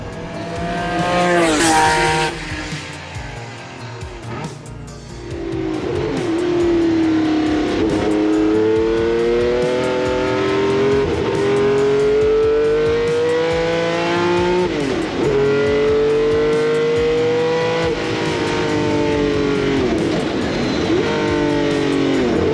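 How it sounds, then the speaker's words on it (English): A loud Ferrari 512M V12 racing car engine at Silverstone drones steadily, its pitch climbing through gear changes and revving, with brief tire squeals, heard close and alone. "You're in this sort of V12 soundy bubble"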